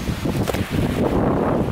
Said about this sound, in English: Wind is gusting